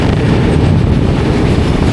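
A passing train on the Varanasi to Kolkata route, pulled by a powerful locomotive, roars loud and close with a dense, continuous rumble and rattle of wagons and no voices.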